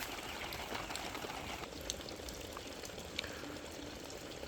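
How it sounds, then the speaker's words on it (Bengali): Steady hiss of water from a sprinkler cooling a broiler chicken farm, spraying and falling like rain, a broad continuous wash with faint scattered droplet ticks. "এটা হচ্ছে আমাদের স্প্রিংলার।"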